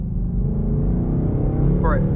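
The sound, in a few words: car driving close behind the speaker's Mustang GT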